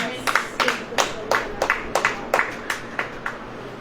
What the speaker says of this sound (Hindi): ताली बजेगी।